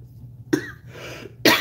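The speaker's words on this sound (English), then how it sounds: "as soon as I get on live, I'm going to have a coughing fit" A person coughs twice, sharp and close, the second cough louder, with a short breathy pause between.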